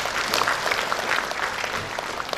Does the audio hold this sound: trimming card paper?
no